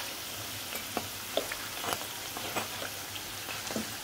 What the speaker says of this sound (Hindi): देखिए बहुत अच्छा तल रहा समोसा। तो इसे पलट भी देंगे।